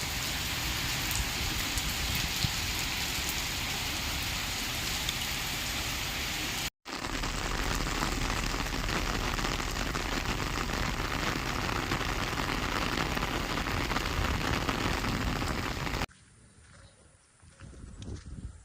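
Steady rain pouring down outdoors on a farm in Punjab, a dense, even wash of falling drops that cuts out briefly, then resumes before fading to a quieter patter at the end.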